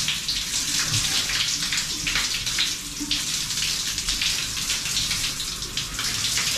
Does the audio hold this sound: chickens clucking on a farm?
no